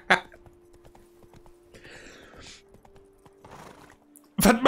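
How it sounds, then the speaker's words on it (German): Horse hooves in The Witcher 3 video game clopping in a steady, light walking rhythm, with a steady hum underneath, a few faint rustling noises and a loud burst at the very end. "Wir müssen nicht galoppieren."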